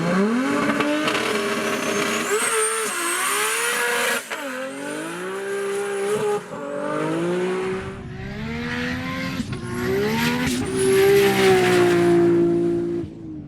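A six-cylinder AWD drag car launching and accelerating down a runway at a drag event, its engine wailing upward through several gear changes, each shift dropping the pitch before it climbs again, loud and close throughout.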